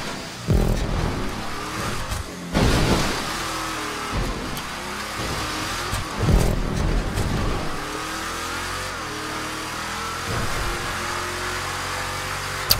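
A trophy truck engine revs and accelerates repeatedly on a desert race course, loud surging bursts rising and falling over a continuous engine roar.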